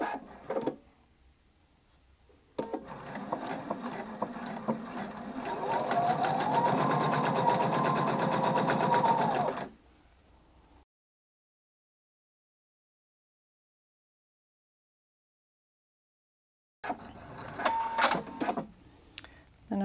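A sewing machine stitches a skirt hem at a quarter inch: a steady, close mechanical whir runs for several seconds, stops for a stretch of silence, then starts up again briefly.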